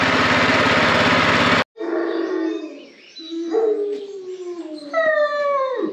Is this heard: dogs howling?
yes